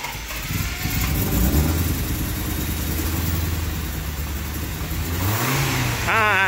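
Honda Civic B series engine after a head gasket replacement, revving loud and close with a rising, surging roar over a steady idle.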